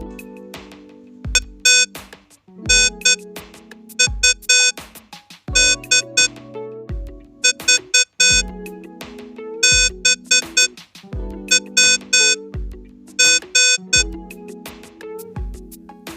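Morse code signalled as loud electronic beeps, sounding in rhythmic groups of short and long tones with brief gaps between letters, steady and alone throughout.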